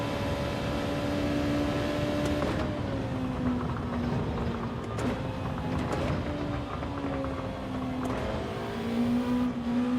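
Race car engine in Gran Turismo 7 daily racing, a sustained high engine whine that climbs through the revs, drops at each gear shift and climbs again, loud and continuous with no talking.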